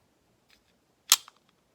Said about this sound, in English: Okay, so it shot the slide forward.